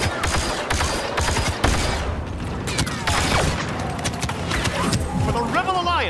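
Weapons firing in a Star Wars Battlefront II Extraction match at Jabba's Palace, loud dense blaster and gunfire bursts overlapping continuously with mechanical clatter and game effects, voices calling out over the barrage.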